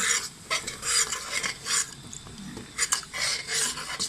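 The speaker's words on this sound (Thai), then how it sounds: "ผัดไปเติมกะทิไปเรื่อยๆพอมันรู้สึกว่าแห้ง เราก็เติมกะทิลงไปอีกนะคะ" Red curry paste stir-fried with coconut milk for a Thai green chicken curry, a steady sizzle broken by scraping and stirring strokes that come in repeated bursts, close and fairly loud with no talking.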